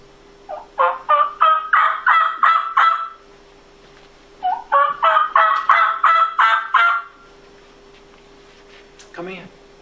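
A person imitates the yelp of a young wild turkey with two runs of rapid, evenly spaced yelping notes, close and clear against a quiet background, followed by a brief voice at the end.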